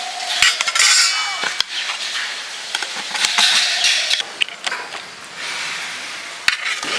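Metal utensils clink and clatter against a pot as chicken dum biryani is taken off the stove, with sharp scattered knocks and scrapes, close and fairly loud.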